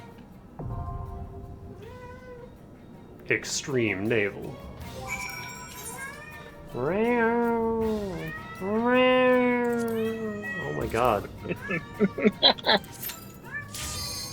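A cat meows loudly and repeatedly indoors, with long drawn-out wailing calls mixed with shorter meows, heard over a video game's background sound while a person speaks briefly.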